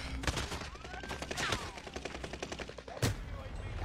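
Automatic gunfire in the Warzone video game rattles in rapid bursts, with a sharp louder shot near the end, heard over faint background voice chat.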